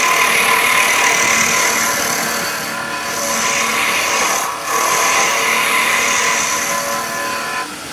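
A wood lathe roughs down a workpiece to form tenons, a loud continuous whirring rasp of the tool cutting spinning wood, dipping briefly twice as the cut lightens.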